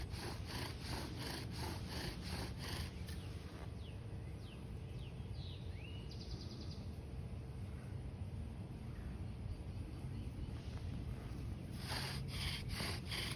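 A bow drill spins against wood to make an ember, giving a steady rhythmic rasping friction that runs almost the whole time at close range, with faint bird calls in the background.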